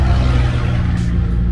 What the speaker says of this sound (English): Sorry about the noise. I'm right next to the highway right now.